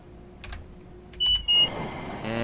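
Train Simulator Classic cab on the Long Island Rail Road Oyster Bay Branch gives a few short electronic beeps and a sustained tone over a low engine hum, followed by a couple of louder thumps.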